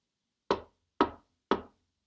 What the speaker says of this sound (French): qui frappe à la porte?